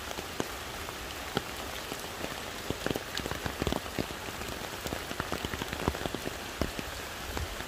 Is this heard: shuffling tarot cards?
no